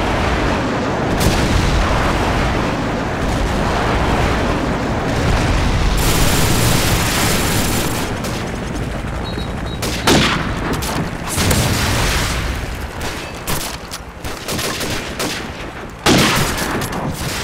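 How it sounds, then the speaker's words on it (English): Sustained battlefield din of airstrike explosions and gunfire in Call of Duty 4, a dense continuous roar of booms and rapid shots, with sharp blasts punching through near the ten- and sixteen-second marks. "Friendly airstrike on the way."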